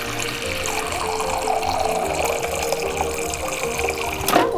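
About a cup of water streams into a pan of butter on medium-low heat for a chocolate sour cream bundt cake, a steady close pour ending with a brief knock.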